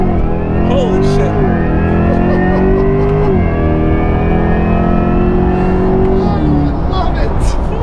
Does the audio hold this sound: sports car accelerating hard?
yes